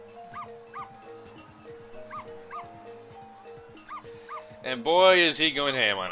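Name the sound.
dog Missile barking at Christmas tree ornaments in Ghost Trick video game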